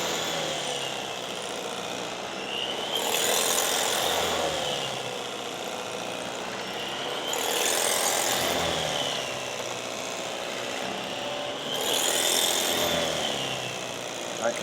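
A knife cutting thin slices through smoked Texas brisket at a barbecue restaurant, with three slow, drawn-out sawing strokes spaced a few seconds apart, close and moderately soft, and no voices.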